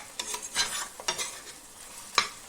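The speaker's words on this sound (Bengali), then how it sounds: "ভালো করে নেড়ে চেড়ে সুন্দরভাবে মশলাটা ভেজে নিতে হবে" Spice paste frying in a pan while being stirred, a soft sizzle broken by sharp scrapes of the spoon at irregular intervals, close and clear without talk.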